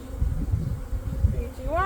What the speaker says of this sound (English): Oh, there's a lot of bees in that box again.